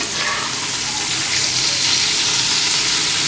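Fish sizzling in hot oil in a pan while shrimp bhuna is prepared, a steady broadband frying hiss that holds evenly for a few seconds with no talking.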